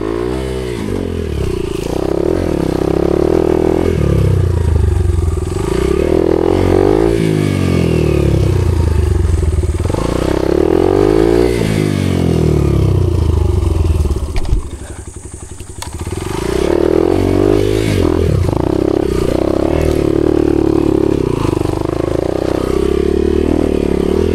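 A trail motorcycle engine roars and labours loudly up close while climbing a trail, its pitch repeatedly surging and dropping as it revs hard, with clattering underneath.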